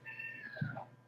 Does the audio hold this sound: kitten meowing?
yes